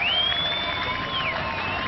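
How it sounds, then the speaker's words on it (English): Warm applause and crowd noise from fellow players and Dutch fans at a 2003 Cricket World Cup match between India and the Netherlands, steady and moderately loud, with a faint whistle-like tone gliding through. "Warm applause from his fellow players"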